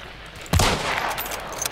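A single loud gunshot in Hunt: Showdown, a sharp close crack followed by a long, fading reverberant tail.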